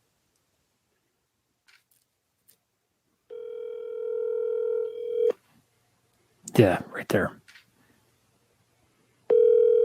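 Telephone call audio: a steady tone sounds for about two seconds, someone speaks briefly, then the tone returns as the call goes unanswered.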